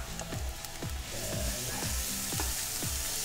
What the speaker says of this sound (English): So we're just starting with some chopped garlic, and I have some caramelized onion.